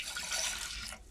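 Water pours and splashes steadily into a cooking pot before it goes on the stove, a close, continuous gush lasting about a second before it tapers off.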